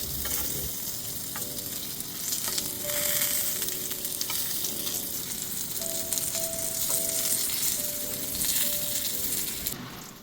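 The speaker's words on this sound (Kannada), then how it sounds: "ಪೈನಾಪಲ್ ಒಂದು ಸೈಡ್ ಇವಾಗ ಚೆನ್ನಾಗಿ ಫ್ರೈ ಆಗಿದೆ" Pineapple pieces frying in a pan, a steady close sizzle with soft stirring scrapes, while a faint tonal hum runs in the background.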